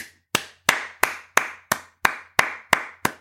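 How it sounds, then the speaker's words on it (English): A podcast host claps alone nine times at a steady, even pace, each clap sharp, close and dry with a short decay, and nobody talks. "Hartford, I'm going to give you some applause."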